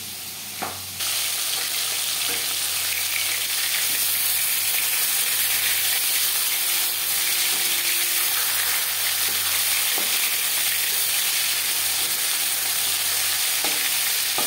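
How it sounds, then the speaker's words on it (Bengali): Aar fish frying in hot oil, a dense, continuous loud sizzle with occasional faint clinks of stirring, close by. "পরের মাছ একইভাবে ভেজে নেব"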